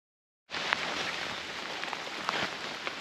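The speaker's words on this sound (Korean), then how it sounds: "비가 오네요." Autumn rain falls steadily at a riverside campsite, a soft even hiss starting abruptly after a brief silence, with a few louder drops pattering on a nearby surface.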